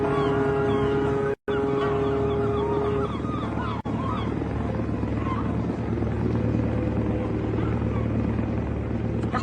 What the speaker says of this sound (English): That chopper's still there?